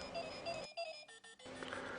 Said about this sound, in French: le bouton Minute permet de sélectionner la sonnerie du réveil